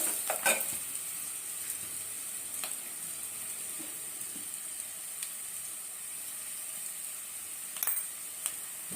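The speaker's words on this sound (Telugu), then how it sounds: "చూడండి ఇలా వేగింది కదా, దీంట్లో కొంచెం ఉప్పు కూడా వేసుకున్నాం." Ingredients fry in a pan for kandikattu charu, a lentil-style South Indian soup, giving a steady soft sizzle throughout, punctuated by a few sharp clinks and taps of stirring, with no voices.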